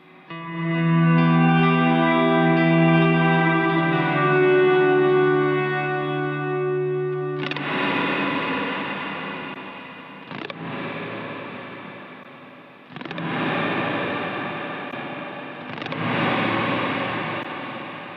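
Guitar through a Strymon NightSky reverb pedal with drive placed after it: a held, gritty reverberant chord gives way to several sharp strummed attacks, each trailing a distorted, ambient wash, loud with no talk.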